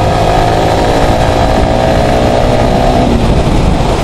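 A Yamaha R15 V3 motorcycle engine runs close and loud with a steady, buzzy idle-like drone and no pauses or revving swells.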